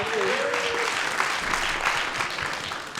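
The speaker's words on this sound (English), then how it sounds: "Give him his own round of applause." Audience applause at a cannabis industry event, a steady dense wash of clapping that holds throughout, with a brief tonal sound near the start.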